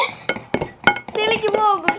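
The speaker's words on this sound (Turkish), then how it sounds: "Hızlı karıştırmam lazım." A spoon clinks rapidly against a bowl while slime is stirred fast, sharp close taps in an uneven rhythm, with a voice talking over the stirring.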